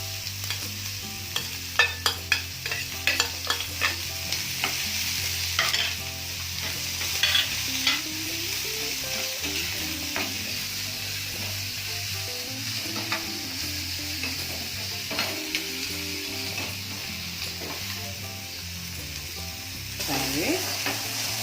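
Green chilies, onion, ginger, coriander and curry leaves frying in a pan for masala paniyaram, with a steady close sizzle broken by scraping stirs and a few sharp clicks of a spoon.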